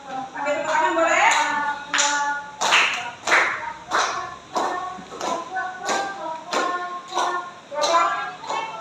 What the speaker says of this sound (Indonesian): Pakai tepuk tangan boleh?